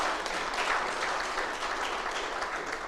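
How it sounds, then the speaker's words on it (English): Audience at a lecture event applauds a high school group, a sustained, even burst of many hands clapping throughout, fairly close and without talk. "Give the Anchovy High School a round of applause,"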